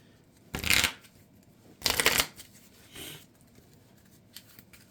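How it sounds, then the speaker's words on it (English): Resource cards from a Marvel Champions card game being shuffled back into a deck, two close riffling bursts followed by a softer third shuffle and quiet handling. "I'm shuffling 6 of them back into my deck"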